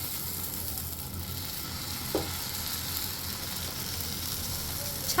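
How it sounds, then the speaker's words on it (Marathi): Uttapam batter sizzling steadily on a hot tawa, a soft continuous frying hiss with a brief clink near the middle, no talking. "आता आपण जे बॅटर तयार केलं आहे उत्तपाचं ते आपण ह्याच्यामध्ये टाकून घेऊयात"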